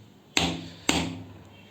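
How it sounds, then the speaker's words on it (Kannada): Two sharp metallic taps about half a second apart as a screwdriver strikes the plate of a single-bucket 150 lpm milking vacuum pump during repair, each ringing briefly before fading, close and clear with no talk. "ಸ್ವಲ್ಪ ಹಿಂಗೆ ಹೊಡೆದ್ರೆ ಅದರೆಲ್ಲರೂ ಒಂದು ಸ್ಕ್ರೂ ಡ್ರೈವರ್ ಹೊಡೆದ್ರೆ ಹಂಗೆ ಬರುತ್ತೆ ನೋಡಿ"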